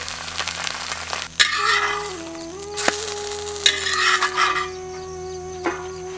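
Madurai mutton kari dosa cooks on a hot pan, a steady close sizzle and fry with a few sharp spatula knocks and scrapes, no talking.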